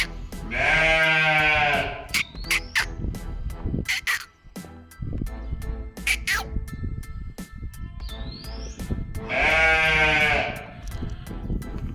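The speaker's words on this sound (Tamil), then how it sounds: "ஸோ இங்கே நம்ம செம்மறி ஆடு, ஷீப்போட ஃபார்மில் உள்ள நிறைய ஷீப்ஸ்லாம் உள்ளே இருக்குது" Sheep bleat loudly inside a shed on a sheep farm at Mannavanur, Kodaikanal, with two long, close, wavering cries at the start and end and scattered shorter calls and rustling between them.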